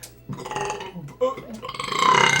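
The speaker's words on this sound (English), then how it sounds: "Burps every episode." A drawn-out burp from a man, rising in loudness toward the end, close to the microphone with a brief vocal sound before it.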